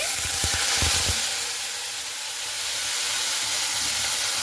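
Spice paste hitting hot oil with black cumin for a vegetarian drumstick dish, a few quick knocks at first, then a loud, steady sizzling hiss that fills the rest.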